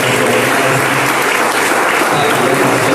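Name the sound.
congregation applauding for Jesus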